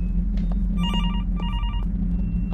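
A telephone rings twice in a horror video game, with two trilling bursts over a steady low ambient drone.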